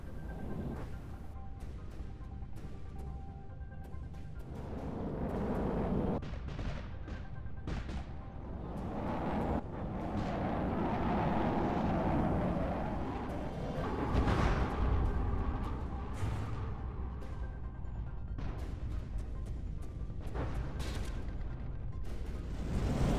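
Dense, rumbling booms and sharp blasts overlap continuously, a chaotic barrage of cram cannon fire and explosions against wooden armor in the game From the Depths, with no pause.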